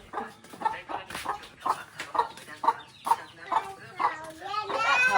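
Chickens cluck close by in a steady run of short, repeated clucks, with a voice blending in toward the end.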